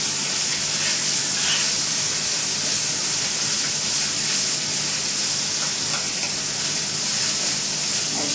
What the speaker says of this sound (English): All we do is soak the crumbled tofu in it and stir it.